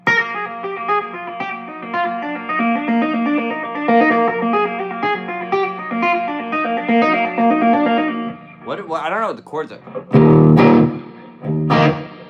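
Electric guitar drenched in heavy reverb plays sustained chords for about eight seconds, loud and washy, then gives way to someone talking with a few more strums between his words.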